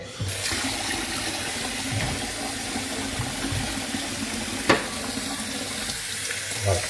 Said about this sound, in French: Je n'ai pas ça quand j'ouvre mon robinet.